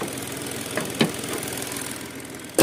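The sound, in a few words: Hyundai Grand i10 diesel three-cylinder engine idling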